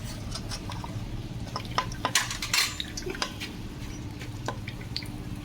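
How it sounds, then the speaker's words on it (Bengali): A slotted ladle presses and lifts jalebi in sugar syrup, giving soft scraping, light metal clinks and wet drips over a steady low background, close and moderately loud. "এই রসের মধ্যে দিয়ে এইভাবে ছানটা দিয়ে চেপে দিতে হবে দেখুন রসে ডুবে গেছে এবার ছানটা দিয়ে তুলে নেবো"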